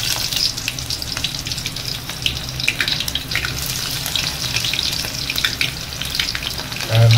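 Sliced onion frying in hot oil for Kolhapuri chicken rassa, a loud, continuous crackling sizzle close up that holds steady throughout, with a low thump at the very end.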